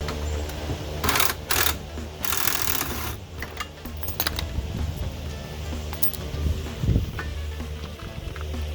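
Wrench work loosening the brake caliper bolts on a 1998 Toyota Avalon, a run of mechanical ratcheting and clanking with sharp metallic bursts over a steady low garage hum, close by with no talking.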